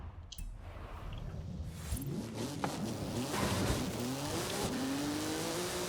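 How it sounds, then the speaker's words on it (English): A Forza Horizon 5 car in a wheelie with its tail end dragging, a loud game engine that rises in pitch as it accelerates, with tire scrubbing and some squeal and no talking. "Oh, and it's just dragging the tail end."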